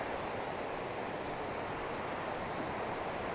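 A river flowing beside a hiking trail on the Pacific Crest Trail, heard as a steady, loud broadband rush of water with no breaks, close by and without any talk.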